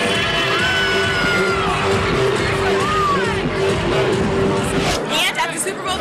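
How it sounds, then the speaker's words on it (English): Dense crowd at a Super Bowl Village DJ set, with loud, continuous hubbub, yelling and whoops over pumping music, which then thins out and quiets near the end. "the crowd is going crazy"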